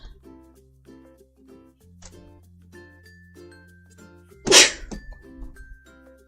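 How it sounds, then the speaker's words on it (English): A single loud, sharp sneeze bursts out midway, standing above a quiet background of soft clinks and low steady hum. "I mean to sneeze in your guys' ear"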